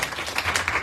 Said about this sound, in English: Let's give a clap to Prabhu.